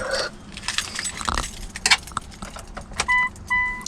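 Car keys jangle in short metallic bursts near the door of a 3G Mitsubishi Eclipse as it is unlocked, followed by two brief electronic chimes from the car.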